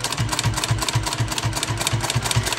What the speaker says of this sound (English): let's sew our top stitch with about 1/8 of an inch seam allowance